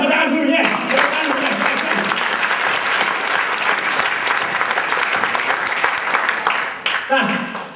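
Loud, sustained applause from a seminar audience at a financial freedom event, dense continuous clapping for several seconds with a brief voice at the start and near the end.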